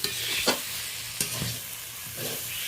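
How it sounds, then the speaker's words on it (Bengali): Spices such as ground coriander are stirred into a mushroom and prawn curry in a pan, giving a soft, low sizzle. A few distinct scraping stir strokes stand out, and no one speaks. "তো ভালো করে একটু মিশিয়ে নিচ্ছি।"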